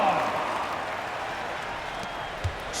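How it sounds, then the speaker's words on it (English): Crowd applause at a basketball game, a steady broadband wash of clapping and cheering lasting about three seconds, with a short sharp thump near the end. "Give them a round of applause."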